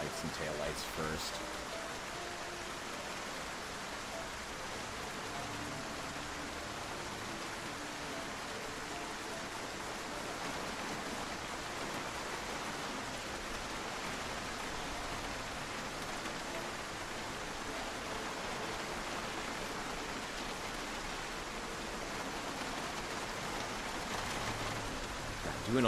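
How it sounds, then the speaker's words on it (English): Steady pouring rain in a video game set in Rosewood fills the scene, a constant soft hiss of rainfall that holds evenly throughout at a low, distant level. "Doing all this in the pouring rain."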